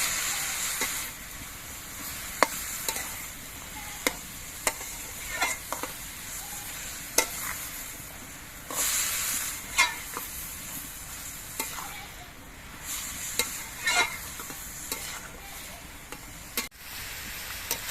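A utensil stirs papaya with green chillies and peas in a pan, soft scraping and occasional sharp clinks over a constant low sizzle, irregular strokes spread across the stretch.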